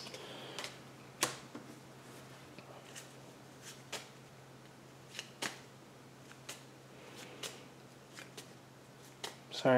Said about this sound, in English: Sorry, I'm just shuffling my cards.